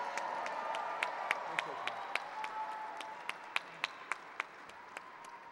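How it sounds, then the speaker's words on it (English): Applause at an inaugural reception, a fairly faint, distant crowd with scattered sharp individual claps standing out over a murmuring background of voices. "Give them a round of applause."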